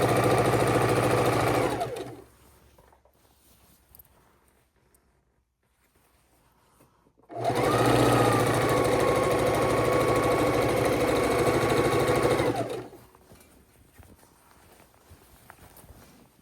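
A sewing machine stitches a border onto a king-size quilt in two loud, steady runs, the first about two seconds long and the second about five, with near silence between them.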